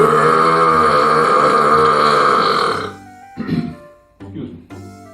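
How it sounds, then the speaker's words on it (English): A long, loud, deliberately rude human burp rolls out for about three seconds with a deep, buzzing tone, followed by a few softer guttural sounds. "The not so polite burp."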